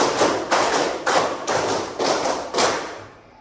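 Students in a classroom clap in a steady rhythm, six bursts of quick, close claps about half a second apart, each a dense flurry of hands, ending abruptly.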